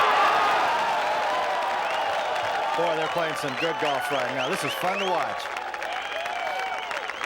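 Crowd at a golf playoff between Fred Couples and Davis Love III at the Genesis Invitational, cheering and applauding throughout, with shouts and whoops rising in the middle while a commentator talks over it.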